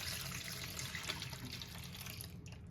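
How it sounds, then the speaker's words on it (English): Water pours steadily into the bottom of a turkey roasting pan, a continuous close splashing flow with no break. "Add a little bit of water to the bottom."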